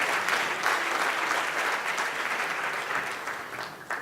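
Audience applause for awardees at a freedom awards ceremony, a steady dense wash of clapping from a large crowd that holds throughout and tapers slightly toward the end.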